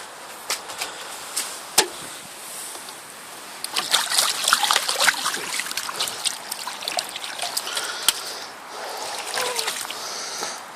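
Running water rinses gunk out of a can, trickling and splashing in irregular bursts with occasional sharp knocks, fairly quiet and close, with no voices.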